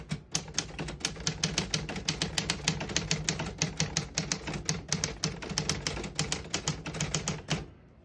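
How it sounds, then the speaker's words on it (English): Typing on a 1947 Smith-Corona Super-Speed desktop typewriter, a fast steady run of sharp metallic key strikes close by, dense rhythmic clacks with a low mechanical hum underneath, stopping abruptly near the end. "I'll type a sentence in red on the next line and switch from black to red."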